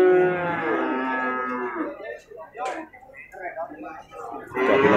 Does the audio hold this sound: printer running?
no